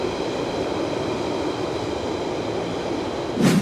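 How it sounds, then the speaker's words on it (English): A London Underground train rumbles steadily at moderate distance, a continuous low roar with rail noise, and a brief louder burst near the end. "Oh, there's a train."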